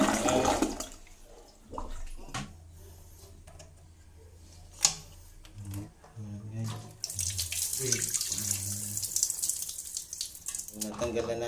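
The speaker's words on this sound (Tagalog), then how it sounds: "Ito na pumapasok yung tubig." Water flows into a toilet tank through a newly replaced fill valve, starting with scattered clunks and splashes, then settling into a steady, fairly close rushing hiss over the last few seconds.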